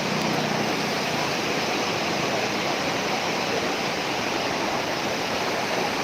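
Flood water rushes down the Batang Sani river at Tandikek, Patamuan, a constant loud broadband roar of churning current that stays steady and close for several seconds without any voices.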